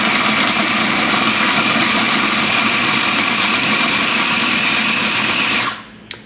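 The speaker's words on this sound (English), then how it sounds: "We're going to put it in the processor," A food processor grinds ingredients for a Vietnamese sambal paste, giving a steady, loud motor whir with a gritty grinding texture that runs unbroken for several seconds before cutting off abruptly near the end.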